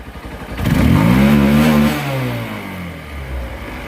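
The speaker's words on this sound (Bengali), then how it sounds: "ইঞ্জিনের সাউন্ডটা আবারও আপনারা শুনুন" An old motorcycle engine revs up close, rising to a loud roar, then settles back to a steady rumbling idle.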